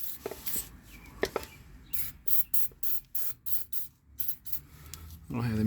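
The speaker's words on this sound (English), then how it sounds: "let me try some penetrant" Penetrating oil sprayed from an aerosol can onto exhaust fasteners during a catalytic converter replacement on a 2010 Honda Accord: several short, evenly spaced hissing spritzes, close and fairly quiet, ending in a brief rustle.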